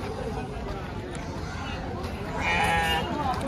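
A sheep or lamb bleats amid the bustle of a goat and sheep market, its cry rising briefly over a steady background of crowd chatter and people talking nearby.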